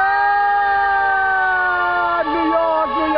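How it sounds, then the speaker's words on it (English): A New York City ambulance siren wails loud and steady, then its pitch warbles and dips twice as it passes close by. "Oh, I was wrong. It's ambulance."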